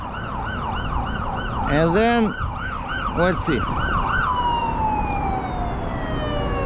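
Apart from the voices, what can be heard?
ambulance siren passing under a bridge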